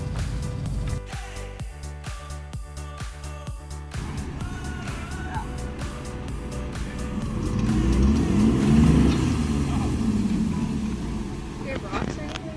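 A Subaru engine revving hard while towing a stuck Lexus IS300 with a heavy-duty cargo strap, the engine note rising and straining with rumbling surges, as people talk nearby.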